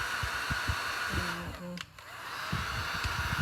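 A handheld heat gun blows hot air onto fresh paint, a steady loud roaring whoosh that runs nearly the whole time with a brief dip in the middle.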